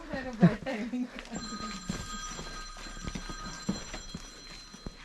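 A telephone rings in a mountain town, a thin repeating tone heard faintly under people talking and background activity.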